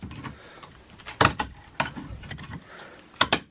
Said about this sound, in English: now what we're going to do is just trim this up now, just with the scissors like that.